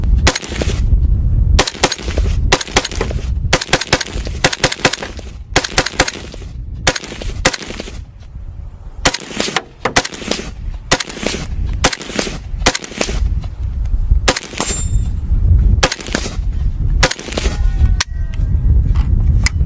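A semi-automatic civilian AK rifle is fired outdoors, loud close shots cracking one after another in an uneven rapid series, each with a sharp report and short echo, and no talking.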